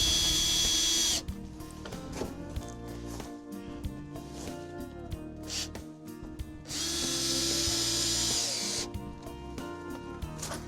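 A power drill driving screws into the top board of a wooden Vegtrug planter, with two loud whirring bursts at the start and near the end and quieter handling and clatter between them.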